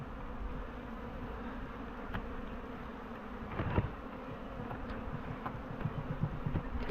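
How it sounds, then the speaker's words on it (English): Dense, continuous buzzing of a honey bee swarm on a post, close by and steady, with a few louder passes as individual bees fly near. "There's a lot of bees on there, we've got a swarm in there as well."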